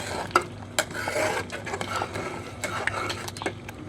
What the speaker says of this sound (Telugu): దీన్ని పప్పులో కలిసేటట్టు మనం ఇలా మిక్స్ చేసుకోగలిగితే కూర టేస్ట్ బాగుంటుంది.